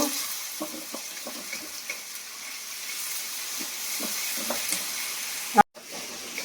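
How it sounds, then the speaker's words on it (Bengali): Onions fry in a pan with a soft, steady sizzle, and faint scrapes of stirring come and go. A sharp bump near the end is followed by a brief dropout. "পেঁয়াজগুলো এবার একটু ভালো করে ভেজে নেব।"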